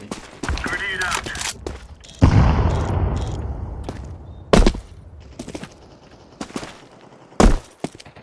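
In the video game CS GO, a grenade goes off with a loud blast followed by a rolling rumble, while scattered sharp gunshots crack before and after and a voice talks through it.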